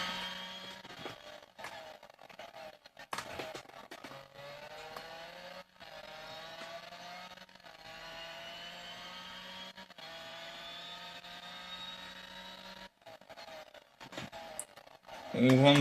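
Renault R.S. 01 race car in the video game Real Racing 3, its engine whining and rising in pitch through repeated gear changes at a moderate, steady level under intermittent talk.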